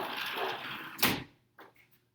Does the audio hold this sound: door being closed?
yes